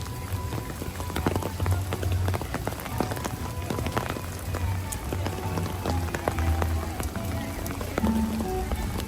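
Rain falling at Magic Kingdom during a Halloween party evening, a steady dense patter and splatter on surfaces, continuous and fairly loud with low background rumble throughout.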